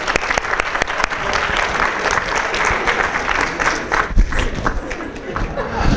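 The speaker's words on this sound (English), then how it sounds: "We'll give a clap." Lecture audience applause, a dense, steady patter of many hands clapping for about six seconds, close and lively.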